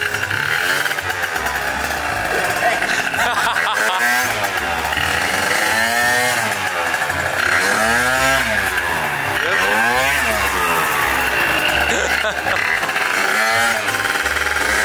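A scooter ridden for the first time, its engine revving up and down loudly in repeated throttle surges, with people talking over it.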